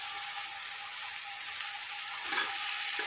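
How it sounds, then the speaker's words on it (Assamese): Small nichila (mishi) fish seasoned with salt and turmeric frying in a pan, a steady, even sizzle with a dense crackle that swells slightly near the end, close and alone with no talk. "তাৰপিছত মাছখিনি ভাজি ল'লোঁ।"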